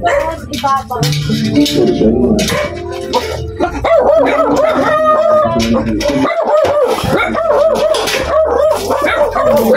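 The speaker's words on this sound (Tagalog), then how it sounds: "Napakaraming aso. Ganyan po talaga yan sila pagka meron na nakapasok na ibang tao." Many dogs bark, yip and whimper together close by in a loud, busy chorus with overlapping voices that continue throughout, while a person talks over the noise.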